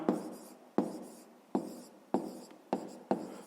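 Pen or pencil writing on paper during a fifth-grade maths exercise, six distinct strokes or short bursts repeating at a steady rhythm, close and fairly quiet, with no talking.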